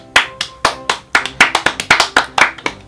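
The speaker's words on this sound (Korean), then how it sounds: "이렇게 결혼식 할 수 있게끔 만들어준 우선 저희 부모님들께 박수." Outdoor self-run wedding guests clap for the parents in a loose, uneven rhythm of sharp, close, loud claps, a dozen or so distinct slaps with no voices over them.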